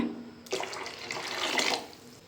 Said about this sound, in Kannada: ನಮಗೆ ಸಾಂಬಾರು ಎಷ್ಟು ಬೇಕೋ ಅಷ್ಟು ನೀರು ಇದ್ದೀನಿ